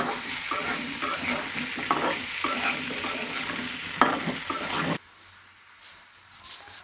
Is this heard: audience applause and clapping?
no